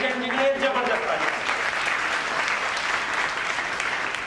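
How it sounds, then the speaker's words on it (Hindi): Audience applause at a network marketing DTM training event in Meerut, a steady dense clapping that holds for several seconds, with a voice talking over it at the start. "उसको बनाने वाले दोनों राम लक्ष्मण के लिए सर, मिस्टर प्रवीण जैन जी और प्रदीप जैन जी के लिए जबरदस्त तालियां।"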